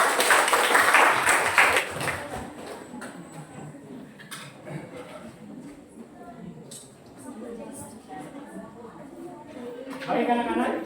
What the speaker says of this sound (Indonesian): boleh sekali lagi tepuk tangan untuk kita semua